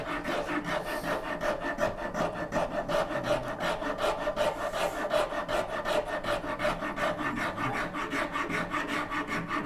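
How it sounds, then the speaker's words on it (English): A hand rasp files wooden parts for a Shaker Enfield cabinet in quick, even back-and-forth strokes. The rhythmic scraping rasp is close and loud, and no one speaks. "cutting them out at the same time and rasping them together will make it look pretty professional"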